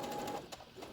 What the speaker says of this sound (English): I'll stitch the collar closed and then do all the top stitching along the plackets